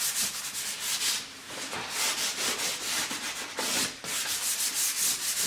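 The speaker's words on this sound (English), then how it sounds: "People get horrified when they see me sanding leather" Steady, rhythmic rasping of sandpaper rubbed back and forth over cracks in Jaguar car seat leather, close and fairly loud, with no talking.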